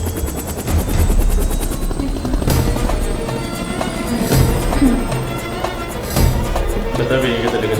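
A helicopter roars loud and close throughout an action scene from a Suriya film, its rotor a steady thrum with thuds and overlapping shouted voices.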